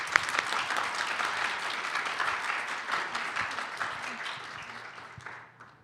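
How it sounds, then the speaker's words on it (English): Audience at a women's media career summit applauds panelists taking the stage: a broad roll of clapping that holds steady, then gradually thins and fades away toward the end. "Please give them a warm welcome and applause"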